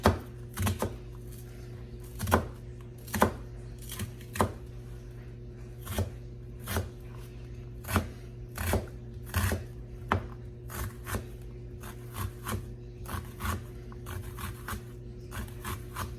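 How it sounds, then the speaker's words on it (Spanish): A knife chops an onion steadily on a board, sharp clear strikes in an uneven rhythm over a low background hum, close and fairly loud. "Piqué mi cebolla"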